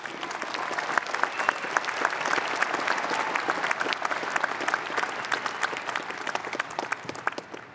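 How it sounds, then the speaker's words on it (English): A large crowd at a university graduation ceremony claps and cheers steadily, dense applause with whoops rising throughout, no speech over it. "Let's give them all a big RMIT cheer."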